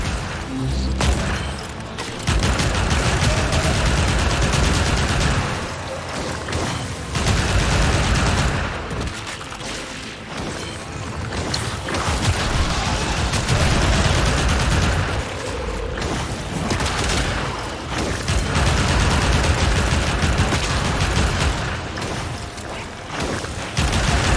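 Sustained weapon fire against an Infested hive in Warframe, made of loud, dense bursts of shots and booms that run almost without a break through the whole stretch.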